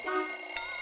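A cartoon alarm clock rings with a bright, steady electronic tone that holds without a break for under a second, loud and close with no voices.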